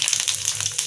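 Cumin seeds hit hot tempering oil for a potato curd curry, giving a brief, loud, close burst of rapid crackling and spitting over a bright sizzle, with no voices.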